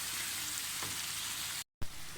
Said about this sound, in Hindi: 3 सब्ज़ मिर्चें, जो मोटी काट ली हैं, ताकि इस घी में थोड़ी सी फ्राई हो जाए